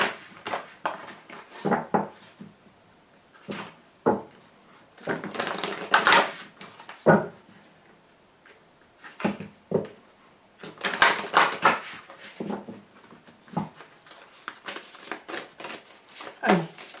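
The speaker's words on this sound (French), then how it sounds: "je vous tire une carte" Tarot cards being shuffled and drawn for a reading, with repeated crisp riffling and slapping bursts of varying length separated by pauses, close up, with a voice talking intermittently.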